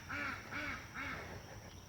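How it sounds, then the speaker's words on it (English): Geese in a small pen call in three loud, regular nasal bursts, each a harmonic honk, close by with steady background hum and no talking. "Somebody has a little pen of geese over there."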